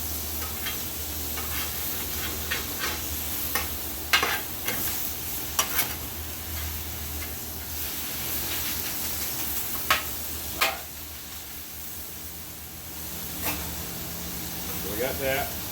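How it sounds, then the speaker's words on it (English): A metal spatula scrapes across a Blackstone griddle while meat for a Philly cheesesteak sizzles beneath, with repeated sharp scraping strokes over a steady hiss as a person talks. "I need to scrape this stuff up a little bit."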